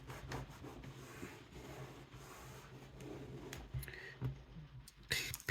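Vinyl decal being rubbed down onto a surface, giving soft, close, repeated friction strokes with a few faint clicks and a sharper rustle near the end, quiet and without talk.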